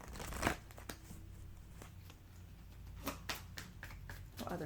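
Cards being shuffled in short riffling bursts with quiet pauses between, close and fairly soft, no voices.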